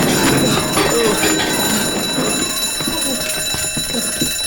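A school fire alarm rings loudly and continuously, a dense sustained tone that fills the whole clip with steady intensity.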